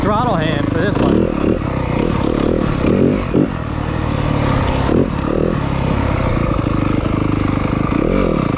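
A 2023 Yamaha 250FX four-stroke off-road motorcycle being ridden, its engine loud and close with rising and falling revs and throttle blips, wind noise, and a rider talking over it.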